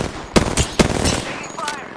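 Loud, close gunfire from Apex Legends played as Revenant: a quick string of sharp shots in uneven bursts, with game voice chatter underneath.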